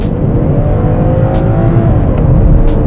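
A BMW 5 Series six-cylinder engine revs loud and close, with a steady high-pitched drone that rises slightly over the few seconds, and no talk over it.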